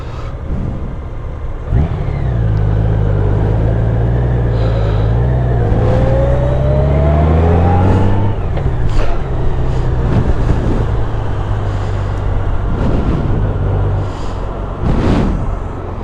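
A car passes close and cuts in front of a Honda Goldwing motorcycle on the road: a loud, steady engine drone with a rising, revving sweep as the car goes by, then road and wind noise with a few knocks.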